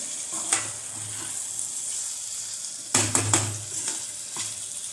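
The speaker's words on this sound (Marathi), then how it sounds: "भाज्या एकत्रितपणे आपण या मसाल्यात अशा पूर्णपणे अशा मिक्स होतील या पद्धतीने हलवून घ्यायचं आहे." Vegetables are stirred into masala in a pan for Kolhapuri kurma, a spoon scraping and knocking the metal in irregular strokes over a soft steady sizzle, with a clustered burst of scraping midway.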